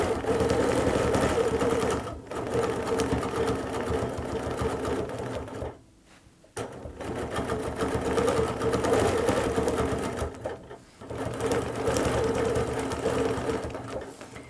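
A home sewing machine runs in fast continuous stitching bursts while quilting a quilt, loud and close, pausing briefly twice before starting up again.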